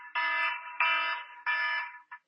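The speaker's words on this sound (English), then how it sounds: "a suspicious envelope will trigger the BDS alarm that you just heard in the Memphis main post office mail sorting center" A BDS alarm goes off in the Memphis main post office mail sorting center, sounding three loud, harsh electronic buzzing blasts of about half a second each, followed by a short clipped fourth burst, with nothing else around them.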